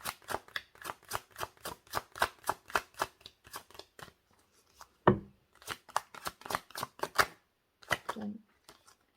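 Tarot cards shuffled by hand, a brisk run of crisp rhythmic riffles and taps, a short pause with a soft thump, then more shuffling snaps, close and fairly quiet with no talking.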